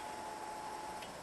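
A new Walbro 525 fuel pump in an LS1 turbo ute hums steadily at low level, a constant faint whine under background hiss with no talking.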